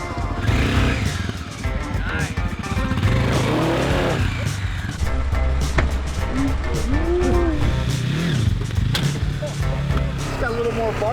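A motorcycle with a freshly replaced piston runs and revs up close, its loud engine rising and falling throughout, with people talking over it.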